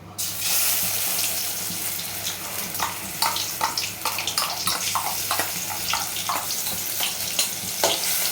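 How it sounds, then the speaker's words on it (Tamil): Onions hit hot oil and fry with a bright, hissing crackle for channa masala, the sizzle holding steady with short bursts of spitting and a few stirring clatters, close and fairly loud with no talk. "எண்ணெய் நல்லா காஞ்ச உடனே மிக்ஸ் பண்ணி வச்சிருக்கிற வெங்காயத்தை அப்படியே அதிலே போட்டுடணும்."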